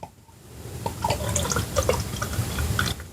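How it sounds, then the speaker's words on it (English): Imperial stout beer pouring into small taster glasses, a steady trickling liquid stream with light splashing that rises in level and continues for about three seconds, close and fairly quiet. "let's go ahead and pour these in our John's Marketplace taster glasses"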